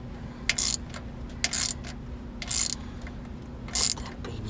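A hand ratchet tightens the shouldered bolts of a crank-driven power steering pump on a 1969 Lincoln Continental Mark III. Four short, crisp bursts of ratcheting clicks sound close by over a low background hum.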